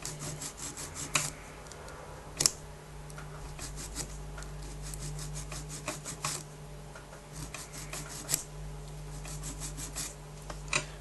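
A nail file rasps back and forth across a false nail tip in steady, close strokes with a few sharper scrapes standing out, over a low constant hum and with no talking.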